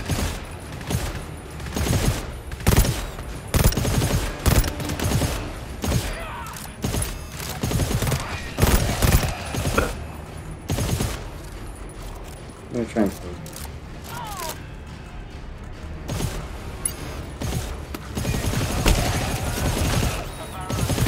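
Gunfire in the video game GTFO, scattered sharp shots and bursts at irregular intervals, some close and loud, others fainter, heard alongside game noise and occasional players talking.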